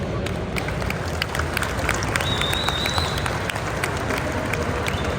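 Crowd at the NEC Motorcycle Live show applauding motorcycle racer Peter Hickman, a steady moderate clapping wash with crowd murmur underneath.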